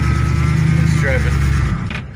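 A car just taken out of a year in storage rumbles as it is driven off, a loud, close, steady engine drone that eases slightly near the end, with a short voice heard over it.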